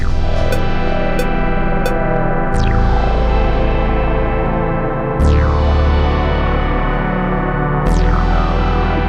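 Loud synthesized kick drums from Yonac's Trooper Synth, each heavy low thump repeating through a dense echo effect, with distorted, reverberant tails and sharp pitch sweeps at a few transitions.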